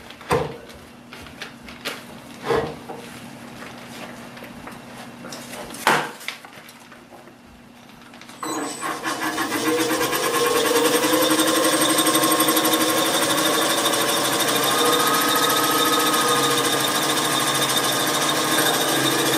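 A wood lathe spins a resin and wood goblet at about 800 RPM, starting with a few sharp knocks and scrapes, then a loud, steady, rattling hum of cutting from about eight seconds on.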